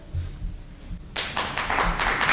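Applause breaks out from an audience at a town meeting, a burst of clapping from many hands after a brief quiet, close and fairly loud.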